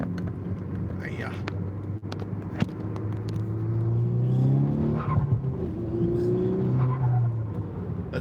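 A turbocharged car engine revs up and down, its pitch rising and falling in sweeping waves over several seconds, with a brief sharp click partway through and speech around it.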